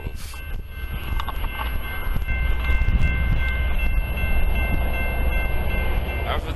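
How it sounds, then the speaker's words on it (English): A loaded coal freight train rumbles past beside the Columbia River, a continuous heavy rolling roar of wheels and cars with squealing tones and some wind buffeting the microphone. "After this coal drag went by"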